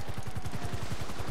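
Rapid automatic gunfire in GTA V Online, a steady stream of fast repeated shots aimed at the player, loud and dense throughout with no talk over it.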